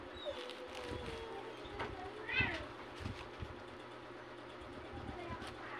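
A cat meows from a house roof at night, one clear rising-and-falling meow mid-clip over a steady low background hum, with faint voices in the background.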